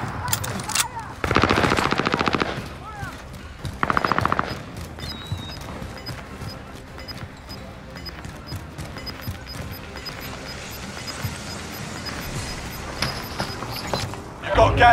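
Video game firefight with rapid bursts of automatic gunfire, loud clusters near the start and again around four seconds, then scattered distant shots under quieter background, with voices talking over parts of it.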